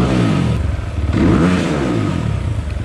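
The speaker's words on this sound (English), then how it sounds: "This sounds a lot more like a race bike now," A 2020 SSR Chinese dirt bike fitted with a Lectron carburetor revs hard close by, its engine note climbing and falling in quick throttle blips over a steady motor drone, with no voices.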